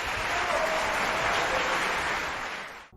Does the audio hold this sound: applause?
yes